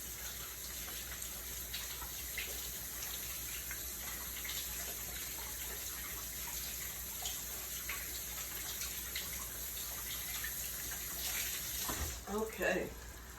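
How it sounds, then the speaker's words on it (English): A kitchen tap runs in a steady, faint hiss and splash while hands are washed, with soft background voices murmuring underneath and a brief clatter of splashing near the end. "So, I just want to wash my hands"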